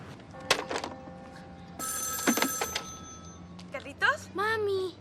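A telephone rings twice in electronic trills, fairly close, with short bursts of talking between and after the rings.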